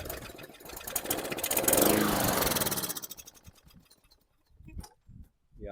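A pull-started Hyper Tough lawn mower with a fuel issue runs with a loud, close, rattling hum that fades after about three seconds, leaving a few scattered knocks and bumps.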